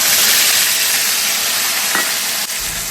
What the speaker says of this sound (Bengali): এবার এটাকে তেলে ভালো করে কষাবো।